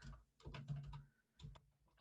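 Fast typing on a computer keyboard, two quick bursts of close, quiet key clicks separated by a short pause.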